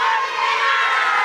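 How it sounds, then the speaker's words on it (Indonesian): A crowd at a women's Islamic study gathering shouts loudly and continuously, a dense, sustained roar of voices with no pauses. "Kenceng banget teriaknya."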